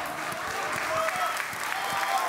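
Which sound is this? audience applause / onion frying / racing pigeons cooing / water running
audience applause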